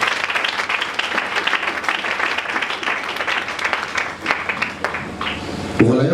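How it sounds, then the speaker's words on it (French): A church congregation claps and acclaims in praise, a thick mass of applause mixed with voices and cheering, loud and continuous before it tails off at the end. "Acclamons pour le Seigneur."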